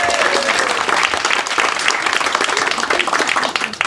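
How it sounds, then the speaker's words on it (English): Audience at a live magic show applauds a young volunteer with dense, steady clapping that stays loud and continuous for the full four seconds, with no voices standing out. "Applause for this young lady."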